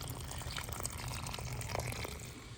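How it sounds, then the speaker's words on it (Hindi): Water is poured over freshly planted plant cuttings outside a village mud house, a quiet, continuous splashing trickle that runs steadily from start to finish. "अभी इनको पानी दिया जा रहा है।"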